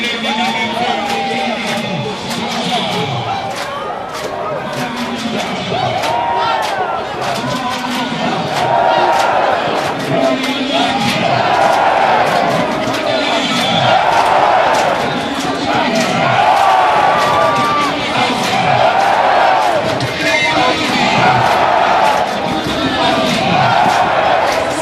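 Stadium crowd at the Safari Sevens 2023 main cup rugby sevens final between Kenya's Shujaa and Samurai at the RFUEA Grounds, cheering and chanting in swelling rhythmic waves, loud and sustained with a commentator talking over it.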